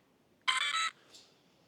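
A short electronic beep from the handset of an Rlaarlo XTS F10 V3 remote-control car, one bright tone lasting under half a second and followed by a fainter echo-like blip in a quiet room.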